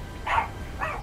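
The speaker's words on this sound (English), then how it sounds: "Sorry for the barking." A pet dog in a house barks twice, two short excited yaps a half-second apart, moderately close over a quiet room background.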